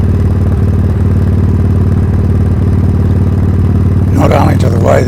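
Loud, steady motorcycle engine running with a throbbing low pulse throughout, up close; near the end a voice begins talking over the continuing engine.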